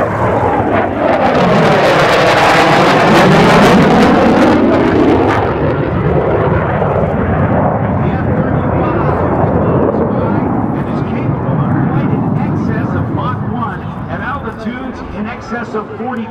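Lockheed F-35B Lightning fighter jet in a flying demonstration at an air show, a loud sustained roaring jet pass that swells and sweeps in pitch before easing off, with a commentator speaking over it throughout.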